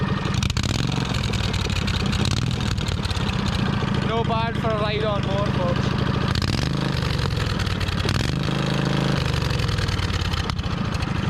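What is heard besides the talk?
V-twin engine idling through straight pipe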